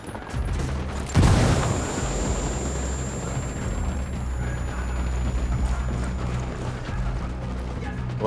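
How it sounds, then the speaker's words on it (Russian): Grenade explosion in Ghost Recon Wildlands, one loud sharp blast near the start followed by a rumbling tail, with sustained gunfire and battle noise continuing underneath. "Граната!"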